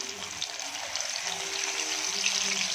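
Ivy gourd pieces dropped into hot oil for deep frying, a steady close sizzling hiss holding even throughout with no break.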